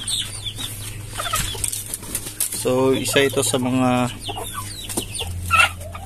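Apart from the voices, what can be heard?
chickens clucking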